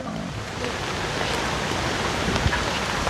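Heavy rain pours down in a storm as a dense, steady wash of noise, loud and unbroken, with no clear gaps or lulls.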